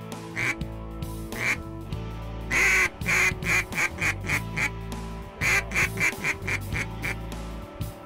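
Ducks quack repeatedly during a duck hunt, a rapid series of nasal quacks in bursts, close and fairly loud, with a few overlapping calls and little talk.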